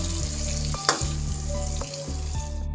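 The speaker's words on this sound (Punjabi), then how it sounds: "ਦੋਨੇ ਸਾਈਡਾਂ ਤੋਂ ਫਰਾਈ ਕਰ ਲਾਂਗੇ 2 ਸਕਿੰਟਾਂ ਲਈ" Paneer cubes frying in hot oil, turned on both sides: a loud, dense, continuous sizzle close up, with a few light utensil clicks, no voices.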